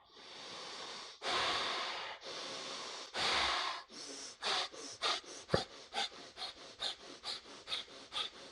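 Rapid pranayama breathing strokes, starting with a few long forceful breaths through the nose and then speeding into a quick, even run of sharp snorting exhales, close and clear with no talk.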